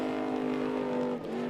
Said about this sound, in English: that man here leaving the line right now is Ryan Arciero in the Dragonfly car